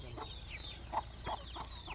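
Farmyard chickens clucking in a rural village setting, with a few short, distinct clucks spaced apart over a steady faint background hum.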